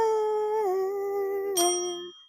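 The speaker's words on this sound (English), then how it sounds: "Ring the bell." A bell rings out clear and sustained with a steady harmonic tone, struck again near the end for a brighter second ding before fading, heard during a cash-stuffing savings challenge.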